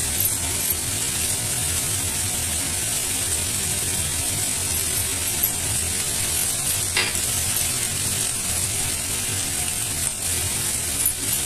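Egg curry masala with Kashmiri red chilli powder, turmeric and salt being stirred and mixed in a pan, giving a steady scraping, rattling texture under a faint sizzle, close and continuous with no talk.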